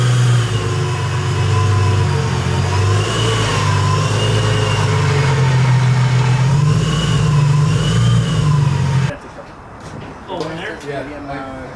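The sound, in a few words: supercharged Infiniti G35 engine revving on a dyno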